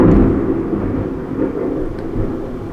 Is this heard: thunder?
yes